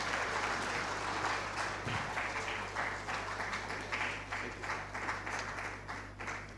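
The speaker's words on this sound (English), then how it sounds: "Please, can we clap for him, please?" Sustained applause from the audience at the opening ceremony of a migrant dialogue in Nigeria, a steady dense wash of clapping that fills the room for the whole stretch.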